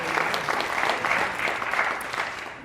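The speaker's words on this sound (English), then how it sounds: "let's give that a round of applause" An audience claps steadily, a dense, even patter of many hands applauding throughout.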